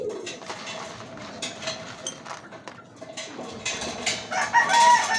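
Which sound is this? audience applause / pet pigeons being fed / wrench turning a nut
pet pigeons being fed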